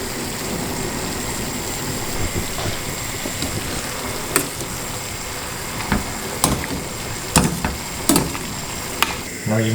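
Octopus simmers in a Mediterranean tomato sauce in a pan, a steady low sizzle and bubbling with occasional clinks and stirring knocks, continuous and fairly close.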